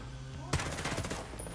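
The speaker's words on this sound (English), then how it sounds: "Steady shooting." Gunfire in the video game Ghost Recon Breakpoint: after a short lull, a sharp shot opens a quick burst of rapid shots that fade over about a second, set against game ambience and music.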